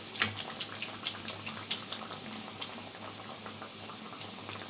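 Khajur dough frying in hot oil for a sweet, giving a steady bubbling sizzle with a few sharper crackles and pops early on, close and moderately quiet, with no talking.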